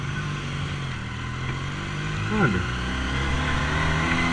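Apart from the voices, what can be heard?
400 motorcycle engine revving with Japanese carburetor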